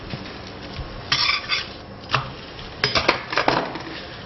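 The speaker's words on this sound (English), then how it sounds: "Just keep moving them around so they don't stick to the pan." Roti prata frying in a pan and being moved around, with quiet scraping and clattering bursts over a faint background and no talking.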